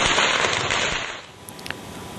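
Firecrackers going off in a dense crackling burst that fades after about a second, followed by a few sharp isolated pops, fairly loud and close.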